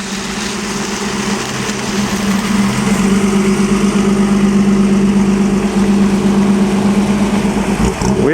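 A classic Alfa Romeo sits idling at the Concorso Villa d'Este on a Sunday morning, its engine holding a steady, close hum that grows slightly louder before a brief disturbance at the very end.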